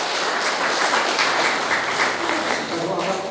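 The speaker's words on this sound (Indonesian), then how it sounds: "Mari kita berikan tepuk tangan untuk mereka." Applause for a newlywed couple at a church wedding celebration, a dense steady wash of clapping from a crowd filling the whole moment without pause.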